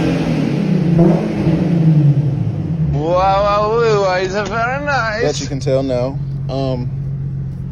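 A Nissan 350Z with a modified exhaust idles with a deep rumble, then revs in a few rising surges while people talk briefly over it.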